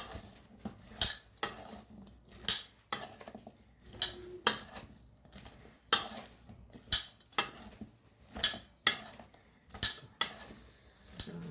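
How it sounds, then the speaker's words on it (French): Greek salad dressed with oil, balsamic vinegar and cheese is tossed in a bowl with utensils, a rhythmic series of sharp clinks and scrapes repeating roughly every second, close and moderately quiet with no talking. "là on rajoute l'huile et le vinaigre balsamique ainsi que le fromage. On mélange ça comme il faut."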